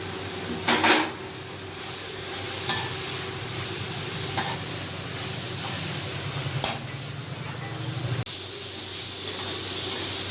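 Onion, tomato and coconut sautéing for tomato chutney, a continuous close sizzle with a spatula scraping and tapping the pan now and then.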